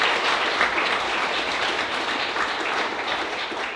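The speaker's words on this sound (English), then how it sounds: "let's give Jake McCoy a round of applause" An audience at a city council campaign kickoff gives a warm round of applause, steady, dense clapping from a crowd that stays fairly loud and even throughout, with no speech.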